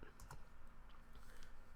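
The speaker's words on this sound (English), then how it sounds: "I can type cd ..." A short command typed on a computer keyboard in a Linux terminal, giving a few quiet, close keystrokes over a low background hum.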